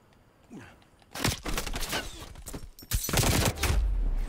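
Video game gunfire from an AK-74U in Call of Duty Black Ops Cold War, heard as close, rapid bursts of automatic shots, with short gaps between strings of fire.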